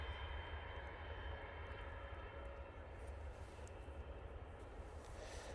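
Airplane taxiing at Manchester Airport, a constant low engine rumble with a faint steady whine, distant and quiet throughout, with a voice speaking over it.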